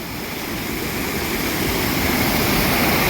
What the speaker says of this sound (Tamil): காரணம் பாளையத்துல அருவி கொட்டுது பாருங்க.